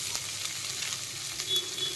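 Shredded cabbage frying in well-heated oil produces a soft, steady sizzle with faint hiss, close up and fairly quiet, with no voices.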